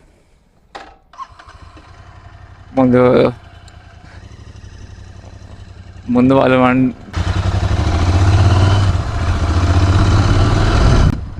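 A Royal Enfield Interceptor 650 motorcycle cranks in two short bursts as someone speaks, then catches and settles into a loud, close, steady idle.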